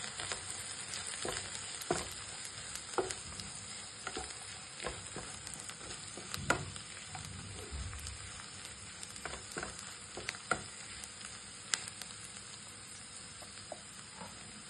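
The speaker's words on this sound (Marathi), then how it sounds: "हे आता आपण कांद्यात टाकूया आणि त्याला जरा परतून घ्यायचं" Ground peanut, green chili and garlic paste sautéed with onions for spinach bhaji, sizzling steadily in a pan with scattered scraping stir strokes and small pops throughout, no talking.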